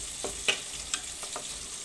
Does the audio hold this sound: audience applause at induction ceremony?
no